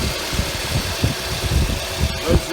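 A Scion xB with a 2.4-liter engine, the same unit as in the Camry and with about 200,000 miles on it, idling with a steady low rumble and a few faint thumps.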